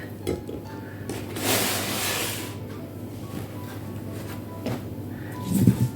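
Mackerel being mixed with lemon juice in a dish produces soft scraping and a few clinks of a utensil against the dish, close and fairly quiet, with one louder rustling stretch.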